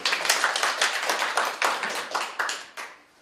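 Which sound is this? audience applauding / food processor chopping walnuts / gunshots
audience applauding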